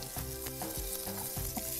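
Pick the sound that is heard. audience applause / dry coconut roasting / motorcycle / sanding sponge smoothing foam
dry coconut roasting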